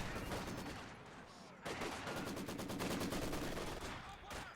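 Machine gun fire in the Company of Heroes 2 strategy game: rapid, steady bursts of automatic gunfire, sounding fairly distant and soft, with a short pause and then a longer continuous burst.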